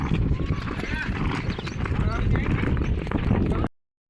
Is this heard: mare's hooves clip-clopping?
yes